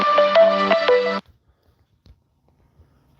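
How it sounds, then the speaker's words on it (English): A mobile phone ringtone plays a short melodic pattern loudly for just over a second, then stops, followed by near silence with faint rustles. "Sorry, my phone rang."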